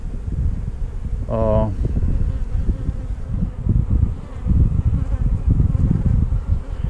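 Honey bees buzz around a hive in a continuous, dense drone, close to the microphone, with some wind-like rumble underneath and one brief tonal chirp early on.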